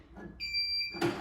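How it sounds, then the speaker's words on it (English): A jumper pack gives a short, sharp electronic overload-warning beep up close, then a brief louder noise as it cuts out, during work on a Briggs and Stratton engine that won't turn over. "my charger or my jumper pack will actually beep and turn off"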